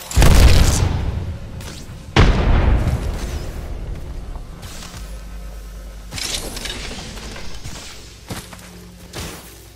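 A frag grenade blasts in the video game Apex Legends, loud booming bursts with shattering debris and whooshes, followed by further thuds and rumbles that fade and return.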